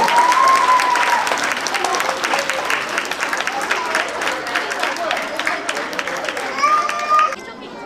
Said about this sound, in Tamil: அனைவரும் கரவோசை எழுப்பி பாராட்டுகளை தெரிவிப்போம்.